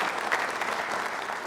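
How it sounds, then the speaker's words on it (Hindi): An audience applauds for a doctor during a quiz show for trainee state civil services officers, a short burst of dense, even clapping from many hands at a fairly loud, steady level. "तालियां जोरों से बजाइए डॉक्टर साहब के लिए"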